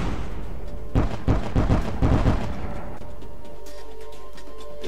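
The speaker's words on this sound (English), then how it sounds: "Assault cannons target enemy ships." Assault cannons firing on enemy ships in the space strategy game Sunrider: a rapid series of about five punchy booming shots in close succession, followed by a quieter hum with faint crackles.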